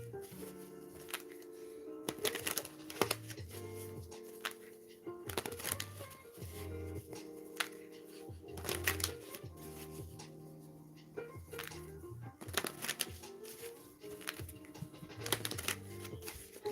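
Tarot cards are shuffled in repeated riffling bursts with soft slaps, while music plays steadily underneath and a voice talks at times.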